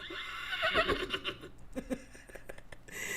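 A voice imitates a horse neighing, a loud wavering whinny near the start that breaks into shorter snorting bursts, with a brief high tone at the end.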